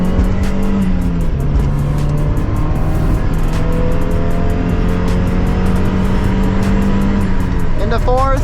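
1991 Mazda Miata engine held at full throttle on a top speed run, a loud steady drone whose pitch climbs slowly, a brief dip as the gear changes, with speech over it throughout.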